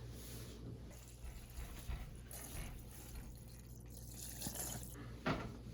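Liquid pours and trickles steadily at a faint, quiet level, with a light continuous splash and a few small drips.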